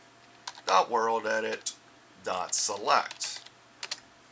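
Typing on a computer keyboard while entering a Minecraft command, two quick bursts of close key clicks with a voice talking over them.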